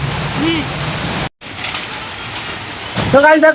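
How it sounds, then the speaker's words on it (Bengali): Heavy rain pouring steadily with a dense hiss, briefly cut off once, with voices speaking over it near the start and end. "বাড়িতে ঢুকে আর বৃষ্টি শুরু চল ভাই"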